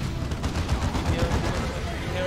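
Dense video-game gunfire in a Warhammer-style battle, continuous rapid shots and booms layered thickly throughout, with a voice talking over it.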